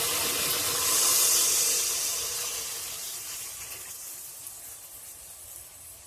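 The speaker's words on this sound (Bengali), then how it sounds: "এবার আমি সামান্য পরিমাণে জল দিয়ে দেব" Water poured into simmering eggplant gravy (badshahi begun) in a pan gives a loud hiss and sizzle of steam that gradually fades to a softer simmer, close and without talk.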